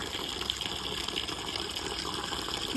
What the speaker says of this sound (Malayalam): നന്നായിട്ട് ഫ്ലോയിൽ വെള്ളം വരുന്നുണ്ട്